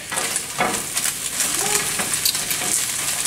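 Eggs cook in melted butter in a breakfast pan, giving a steady, close sizzle and crackle throughout with a few brief scraping stirs and no talking.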